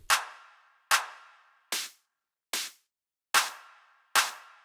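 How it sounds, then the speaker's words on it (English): Six sharp electronic clap and snare hits spaced evenly in a simple pattern, each with a short decaying tail, played alone. "Then a simple clap and snare pattern."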